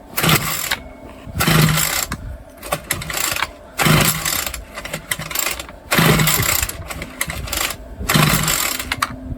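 A string trimmer engine at half choke roars up in short, loud bursts about every two seconds and sputters down between them, sounding rough and uneven close by.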